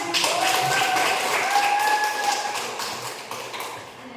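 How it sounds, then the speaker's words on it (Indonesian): A classroom applauds a group presentation, a dense wash of many hands clapping at once, loud and sustained before gradually thinning out. "ya kita beri aplaus"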